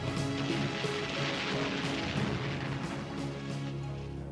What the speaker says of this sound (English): The British battleships open fire.